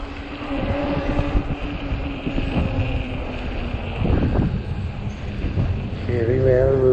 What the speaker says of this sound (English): Oh, damn the wind.